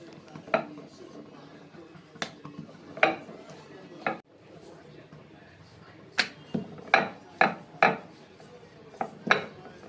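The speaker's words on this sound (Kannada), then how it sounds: "ಚಪಾತಿ ಈ ಥರ ಲಟ್ಸ್ಕೋಬೇಕು." Chapati dough is rolled with a rolling pin on a board, giving a series of sharp wooden knocks and rolling thumps at irregular intervals over a quiet kitchen background.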